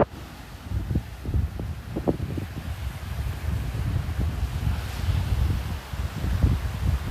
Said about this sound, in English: that wind is picking up now